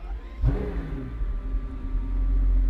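Pagani Huayra Roadster BC engine fires up with a sharp burst of cranking and ignition, then settles into a loud, deep, rumbling idle close by that swells slightly toward the end.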